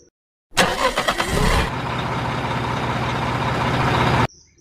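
A toy dump truck's engine sound plays as a loud, steady mechanical rumble that starts abruptly with a sputtering start-up burst, then holds a constant droning idle for several seconds before stopping suddenly.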